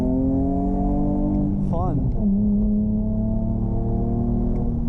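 A BMW E46 car engine hums steadily at speed on back roads. A gearshift dip causes a brief pitch wobble partway through, and the driver talks over the constant drone.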